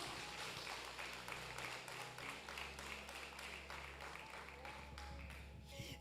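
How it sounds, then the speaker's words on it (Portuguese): A church congregation at a Portuguese-language worship service claps together in a brisk, steady patter, fairly faint and distant, with a little speech underneath. "Aplauda o Senhor"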